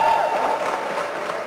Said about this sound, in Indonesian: Tepuk tangan untuk teman-teman dari Sumatera